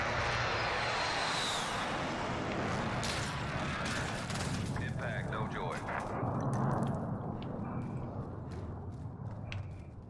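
A Call of Duty Modern Warfare airstrike sends aircraft engines roaring overhead, then heavy booming impacts and scattered gunfire follow, with voices talking throughout.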